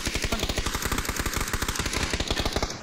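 Rapid bursts of automatic gunfire in a shooter video game, loud and close, firing in a steady rattling rhythm for about three seconds with no talk over it.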